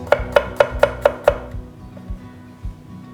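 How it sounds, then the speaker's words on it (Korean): Knife chopping garlic into slices on a cutting board for pork gochujang stew: six quick, evenly spaced, sharp knocks close by, then a few softer, scattered taps. "마늘 다진 거 넣지 않고 마늘 편으로 썰어서 넣을 거예요"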